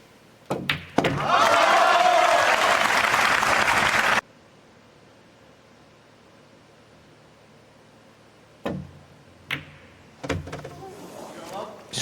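Crowd at a professional pool match breaks into loud, sustained cheering and applause for about three seconds, then cuts to quiet, with a few sharp thuds and scattered claps afterward.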